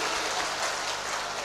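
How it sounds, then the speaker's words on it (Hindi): Dense applause from an audience at a flag hoisting ceremony, a steady wash of many hands clapping throughout the brief moment with no speech over it. "हम सबके बड़े भाई हेमंत बिस्वा सरमा जी को जोरदार ताली के साथ स्वागत करिए"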